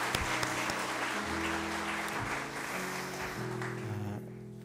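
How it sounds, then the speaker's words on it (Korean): Church congregation applauding during a Sunday service, a steady wash of clapping filling the room for several seconds under organ or keyboard chords, with the applause thinning toward the end. "한 번 더 우리 지금 없지만 큰 박수로 한번 격려하고 축복했으면"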